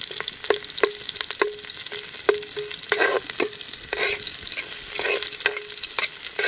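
Frog adobo with native gakong frog and spices stirred in a hot pan: a steady sizzle broken by sharp, repeated spoon clacks against the pan at an irregular, brisk rhythm, close and fairly loud.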